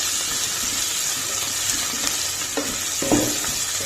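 A turmeric-laced mixture for quinoa khichdi sizzles steadily in a frying pan as it is stirred, a dense continuous crackle with a few soft scraping strokes near the end.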